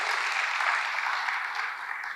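A church congregation claps for God during a sermon, a brief, dense wash of applause at moderate level that fades slightly toward the end.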